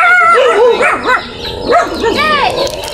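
A dog whimpers and yips in high, wavering cries, several short whining calls close by, with faint voices in the background.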